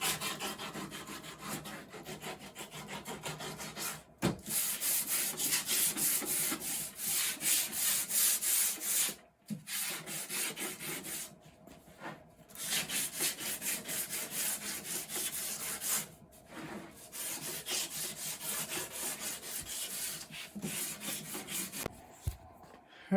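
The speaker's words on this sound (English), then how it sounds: "with a sanding block, just run over all of this to clean up the final pieces" A sanding block rubs back and forth over wooden pieces for a table base and legs, making continuous broadband scraping strokes at close range, with a few brief pauses between passes and no talking.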